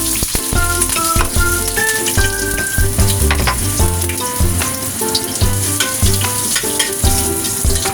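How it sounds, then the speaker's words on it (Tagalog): Shrimp and ginger stir-frying in a hot wok, with loud continuous sizzling and popping close by, broken by clattering metallic stirring strokes and bursts of spatter. "let's cook the stir-fry shrimp with Herigord"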